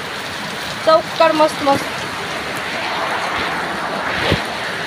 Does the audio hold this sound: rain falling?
yes